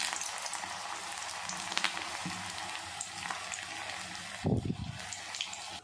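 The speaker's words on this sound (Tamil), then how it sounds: "சிம்மில் வச்சு தான் பொரிக்கணும்." Oil sizzles and bubbles steadily as dumplings deep-fry close by over low heat, with a brief louder splash and crackle near the end.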